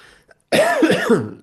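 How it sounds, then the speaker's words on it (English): A single harsh, throaty cough, loud and close, preceded by a brief quiet breath. "Excuse my cough, by the way."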